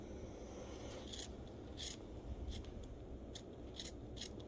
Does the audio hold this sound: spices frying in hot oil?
no